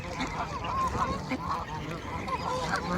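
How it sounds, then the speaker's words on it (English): Geese honk and cackle at close range while they are fed by hand outdoors, a busy overlapping chorus of calls over constant flock noise. "Look at this one goose"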